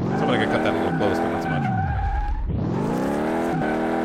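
A loud car engine roars close up, its pitch sliding down to a low dip and then climbing again, with squealing tires along the way. A voice talks faintly beneath it.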